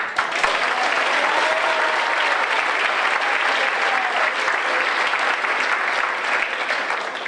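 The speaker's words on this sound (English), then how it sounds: "let's give a big round of applause and thanks to the Rocka's wait staff" Sustained audience applause for the Roger Rocka's restaurant wait staff at a 2012 UCP benefit, a dense, even wash of many hands clapping without pause.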